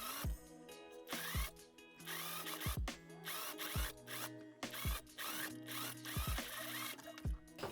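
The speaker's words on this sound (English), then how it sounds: "Sew up here the waist seam." A sewing machine stitching a skirt's waist seam, a fast whirring motor run in bursts with regular mechanical clicks and rattles, close and with no talk.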